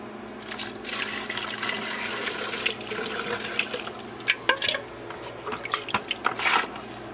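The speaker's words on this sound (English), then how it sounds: "a little bit of water out from that, and I'll rinse out this old GFO out of here" Water trickles and drips while old granular ferric oxide is rinsed out of a phosphate reactor, with splashy pours, scattered drips and a few sharper clunks of handling near the end.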